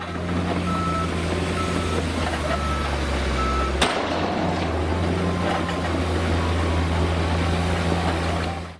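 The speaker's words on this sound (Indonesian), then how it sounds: "Di sini ada mobil truk pasir." A toy sand truck sounds its reversing alarm, a loud steady electronic beeping over a continuous motor hum, with a sharp click partway through and no voices.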